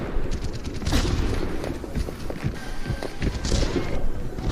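Enemy turret fire in Overwatch rattles in quick repeated bursts, a loud and near stream of shots layered over footsteps and general game noise.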